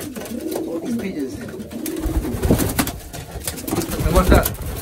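Pigeons coo in low, throaty bursts close by in a pigeon loft, overlapping with people talking nearby and some handling noise.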